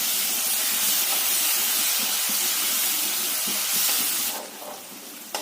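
Green chillies fry in oil on a low flame while being stirred, making a steady, loud, close hiss and sizzle with faint scrapes underneath, which drops away sharply near the end.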